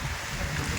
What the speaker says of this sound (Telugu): ఇప్పటికే గాలి అయితే వస్తుంది.